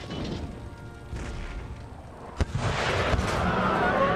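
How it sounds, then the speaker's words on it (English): Artillery fire in the video game Empire: Total War, heard as a rumbling battle bed with one sharp cannon report midway, followed by a louder, dense wash of distant shots and crashes. "Artillery just land shots into here."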